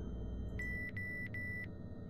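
Electronic beeping from the Bioscopia video game: a series of clear, steady high-pitched tones, some in quick pairs, sounding over a low background rumble without speech.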